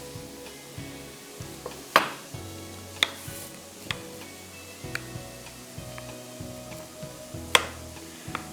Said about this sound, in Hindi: इसको भूने जब तक कि कीमे का कलर चेंज हो जाए।